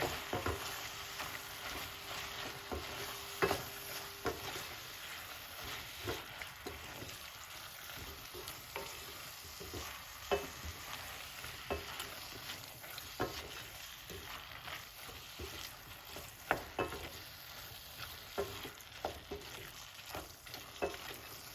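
Jerk callaloo being stirred in a pan, a steady, quiet scrape and sizzle with irregular soft clicks of the spoon throughout, no talking.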